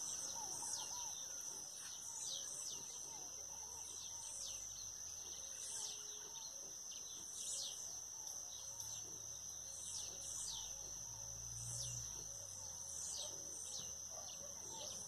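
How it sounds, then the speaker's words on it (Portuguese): Birds sing and chirp at dawn on a country farm, with repeated bright calls over a constant high insect drone and faint low rumbles, steady and moderately distant. "E fica aí um pouquinho aí com o canto dos passarinhos aqui no sítio."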